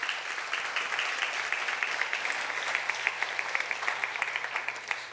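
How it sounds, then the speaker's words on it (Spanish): A church congregation applauds young people with a steady wash of dense clapping that holds at an even level for about five seconds, fairly distant and without voices over it. "Damos un aplauso aquí a estos jóvenes."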